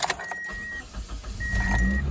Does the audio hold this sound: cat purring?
no